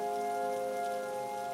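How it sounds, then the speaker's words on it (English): Heavy rain falls steadily on surfaces, a continuous wash of drops under a low tonal hum, with no voices. "it started raining heavily"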